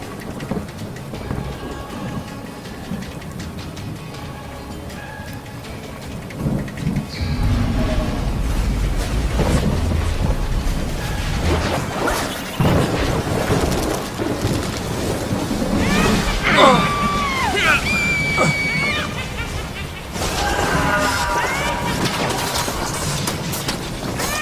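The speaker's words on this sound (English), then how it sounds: "She smiles, and the rain begins to fall." Steady rain falls throughout with low rumbling thunder rolling beneath it, fairly loud and close, with a brief high whistling tone partway through and no voices over it.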